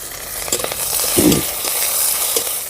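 Green chillies sizzle loudly in hot oil for a bitter-gourd-leaf and small river fish curry, a steady close frying hiss broken by a few sharp spatters and a brief stir of the pan.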